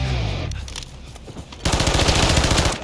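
Rapid automatic gunfire from a team deathmatch match on the Derail map in Call of Duty Modern Warfare 3, with a lighter burst followed by a loud, dense stream of shots.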